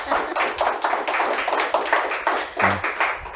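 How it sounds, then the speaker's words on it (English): An audience claps to welcome a guest onto an entrepreneur interview show, a dense, close patter of hand claps that continues steadily through the whole moment. "So let's give him a round of applause."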